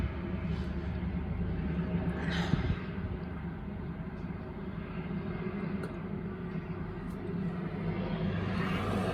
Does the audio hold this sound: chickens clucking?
no